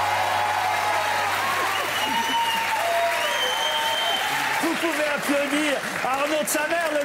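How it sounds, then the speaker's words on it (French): Theatre audience at a stand-up comedy show applauding, a continuous wash of clapping from a crowd with voices and stage sounds mixed over it throughout. "Applaudir Arnaud."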